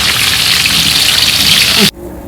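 Heavy rain pours down during outdoor cooking as a loud, dense, steady wash of noise that cuts off abruptly near the end, leaving a quieter background.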